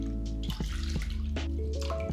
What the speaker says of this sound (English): So first start with half cup of water and half cup of soy sauce.